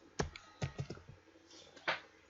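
A few crisp keyboard key presses, close and quiet, in a short uneven burst of clicks as a Control G shortcut is typed in Excel.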